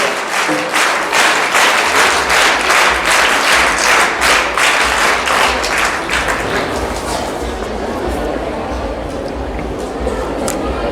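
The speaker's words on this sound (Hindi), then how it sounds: "तो एक बार जोरदार तालियों से बच्चे अभिनंदन करें, स्वागत करें।" Children in the audience at an Arya Veerangana Dal camp clap loudly to welcome guests. The applause is strong and rhythmic at first, then thins into scattered claps over a low background rumble.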